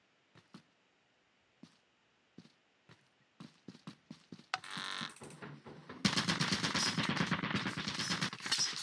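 Rapid automatic turret gunfire in a video game, starting as sparse sharp shots that quicken into a dense, loud sustained burst toward the end.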